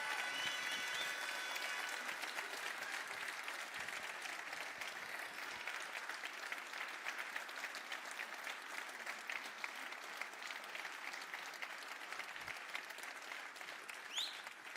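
An audience at a New Year's address in Brabant Wallon gives a long round of applause for the country's farmers, a steady, even crowd clapping that holds for well over ten seconds, heard from some distance.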